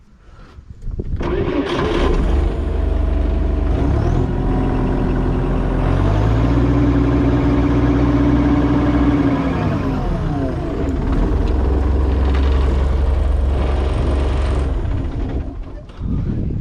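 A Perkins diesel engine on a tracked mulcher starts up and runs loud and close, a heavy continuous rumble that revs up through the middle before settling back to a steady idle and cutting off near the end.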